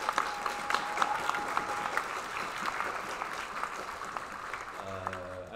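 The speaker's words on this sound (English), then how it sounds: "please give them a nice round of applause" An audience applauds at the opening presentations of a game jam, a steady patter of clapping from a crowd, moderately distant and sustained for several seconds, with a brief tone near the end.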